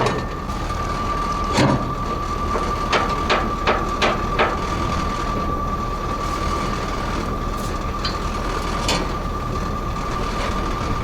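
Winch drum on a Soviet-era KrAZ truck unwinding cable during an off-road recovery, a series of sharp ratcheting clicks over a steady engine hum and constant mechanical drone, with no talking.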